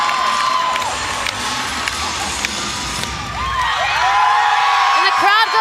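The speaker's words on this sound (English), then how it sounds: "And the crowd goes wild" A crowd at a 2024 ACC college gymnastics meet between Air Force and Clemson cheers loudly and continuously, with shrill whoops and shouts rising toward the end.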